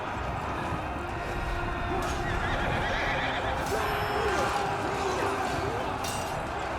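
A horse neighs during a Yellow Turban Rebellion battle in Total War: Three Kingdoms, a whinny rising out of a dense, constant roar of game combat noise, moderately loud and mixed with other battle sounds.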